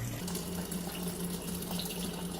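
Liquid is poured steadily into a pot of thick chicken gnocchi soup, giving a continuous, even stream of pouring and bubbling with a low hum beneath and no talking.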